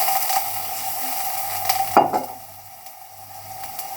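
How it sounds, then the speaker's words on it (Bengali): Onion and ginger fry in a pan with a steady sizzle, broken by one brief louder clatter or stir midway before settling into a quieter sizzle, with no voices. "পেঁয়াজটা ভাজা হয়ে গেছে, আদাটা লাল হয়েছে"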